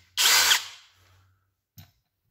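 A Parkside cordless drill driver bites into material, giving one loud close whir of about half a second that fades out, followed by a small clunk.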